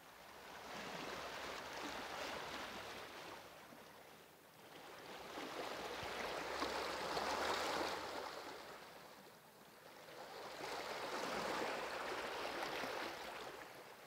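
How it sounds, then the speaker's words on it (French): Ocean waves rolling in and washing out in slow, regular swells, soft and distant, heard alone without voices. "le son des vagues."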